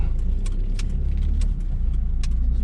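A car idles and rolls to a stop on a steep hill, a steady low engine rumble close by with faint metallic jingles and clicks above it.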